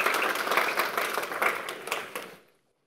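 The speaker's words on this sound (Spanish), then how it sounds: "Lo recibimos con un fuerte aplauso." A small crowd at a university lecture applauds briefly, the claps bright and uneven, quickly fading out into silence.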